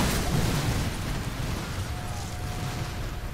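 A Sniper Elite 4 explosion at a military camp leaves a loud, rumbling roar that holds steady and washes broadly across the whole stretch without distinct separate blasts.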